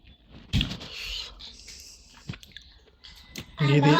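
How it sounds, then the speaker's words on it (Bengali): Close, soft chewing of pulao cooked with ghee, a few wet mouth sounds and small bites spaced irregularly, fairly quiet, with a brief voice near the end. "পোলাও খাচ্ছি"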